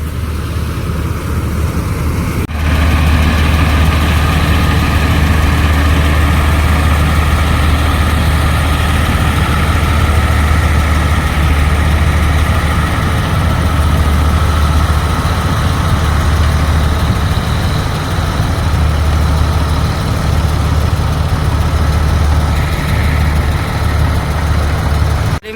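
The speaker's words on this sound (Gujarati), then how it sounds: "અવાજ આવે છે બહુ હલરનો।" A wheat thresher engine runs loudly through a wheat harvest with a tractor nearby, giving a steady, heavy low drone that never lets up and has no voices over it.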